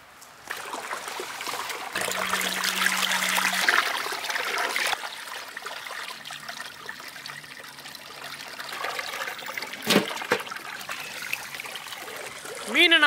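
Fish is rinsed under running water for village-style banana leaf fish tandoori, a steady trickle and splash continuing throughout with occasional knocks and handling sounds nearby.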